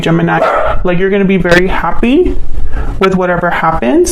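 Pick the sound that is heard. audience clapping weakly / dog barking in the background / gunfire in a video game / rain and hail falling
dog barking in the background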